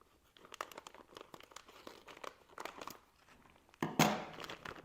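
Plastic packaging from a Traxxas TRX4 K10 High Trail LED light kit crinkles and rustles in irregular bursts close up, ending in a louder, sharp tearing crackle.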